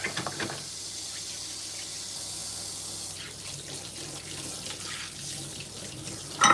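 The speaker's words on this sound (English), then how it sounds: "let's wash my hands" Tap water runs steadily into a sink while hands are washed, a continuous close splashing hiss with slight changes in flow and a brief clatter at the end.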